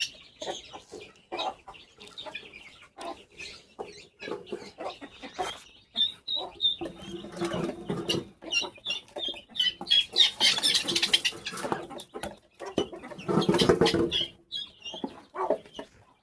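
Guinea fowl cluck and call in bursts inside a new enclosure, with occasional wing flapping and brief voices in the background.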